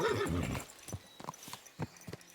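A horse whinnies loudly at the stables in the medieval game Kingdom Come: Deliverance II, then hooves clip-clop in an uneven rhythm close by as it settles.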